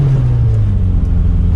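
Volkswagen Mk1 Golf with a 2.2-litre ABF engine on individual throttles, heard from inside on a busy road, a loud, deep, steady engine drone with a strong low rumble and no talking.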